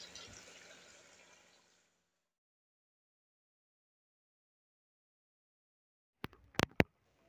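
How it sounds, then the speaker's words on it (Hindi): Water is poured into a pan of fried chicken and tinda cooked in ghee for a village-style curry. A brief splashing pour fades into silence, then a few sharp knocks follow. "तो मैं इसमें पानी डालूंगी"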